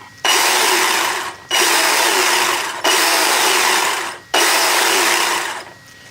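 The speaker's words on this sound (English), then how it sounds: "if I rev it right now, it takes a while for it to die down" The electric motor of an Axial Yeti RC car revs four times, each a loud, close whine that ends in a short drop between bursts, with the differential spinning under it and no voices.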